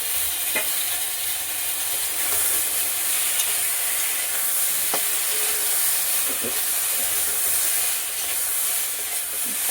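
Coriander powder, chili and ginger paste fry in a pan for a fish curry with drumstick stalks, giving a steady broadband sizzle with occasional scraping stirs, close and continuous with no talk.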